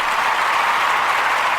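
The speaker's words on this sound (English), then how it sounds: "that's cheering in the background." Recorded crowd cheering and clapping plays in the background, a loud, dense, continuous wash of applause with no pauses and no speech.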